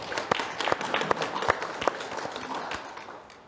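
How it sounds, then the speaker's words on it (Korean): A crowd applauding at an architecture academy forum as a speaker is introduced, a steady patter of many hands clapping that gradually fades toward the end. "열렬한 박수 부탁드리겠습니다."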